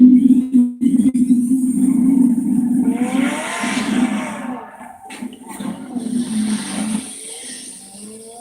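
A car engine revs up and down with tires squealing in a Batman video game, a rising whine sweeping over a steady engine hum, loud at first and then easing.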